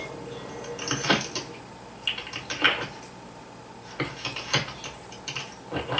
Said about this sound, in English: So who's typing now?